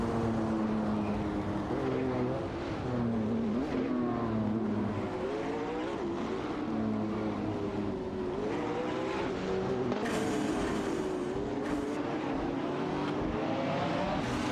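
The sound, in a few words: racing car engines revving in a video game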